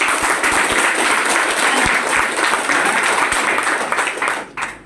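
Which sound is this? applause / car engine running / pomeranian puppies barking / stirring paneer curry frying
applause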